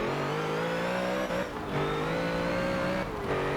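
Race car engine in Forza Motorsport 7, loud and close, revving up through rising pitch with brief drops at gear shifts, steady and alone without talk.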